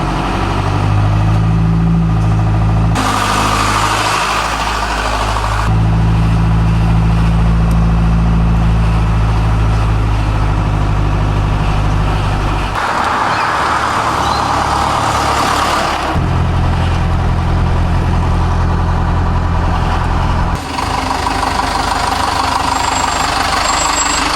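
A small classic restored truck engine turns over and starts, then idles and revs steadily, loud and close, with no talking.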